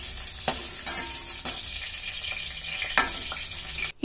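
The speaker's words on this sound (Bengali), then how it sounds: "ফুলকপিগুলো হালকা ভেজে নিয়েছি, এবার এই ফুলকপিগুলোকে তুলে নিচ্ছি।" Cauliflower pieces frying in oil in a pan, a steady broadband sizzle with a few sharp spatters and utensil clicks, close and continuous until a brief cutoff near the end.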